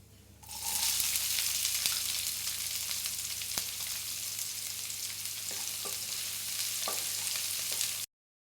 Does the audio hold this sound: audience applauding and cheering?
no